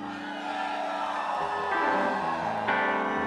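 A live audience at a concert cheers and whoops to pick an encore song, a dense, rising roar of voices that swells toward the end.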